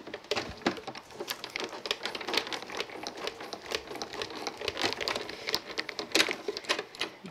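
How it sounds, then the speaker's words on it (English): A die-cutting and embossing machine cranks a card panel through with a raspberry adapter plate, giving steady crinkling, crunching pressure for several seconds, close and moderately loud, with no talk. "we're gonna run that through the machine with the raspberry adapter plate"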